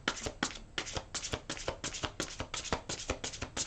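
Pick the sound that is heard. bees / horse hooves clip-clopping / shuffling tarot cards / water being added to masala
shuffling tarot cards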